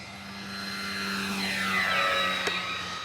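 Steady propeller drone of a radio-controlled E-flite Beechcraft D18 twin-engine model airplane, 1.5 m span, flying with landing flaps down at slow speed outdoors, swelling gently as it passes at moderate distance and fading slightly.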